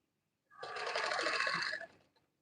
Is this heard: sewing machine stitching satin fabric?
yes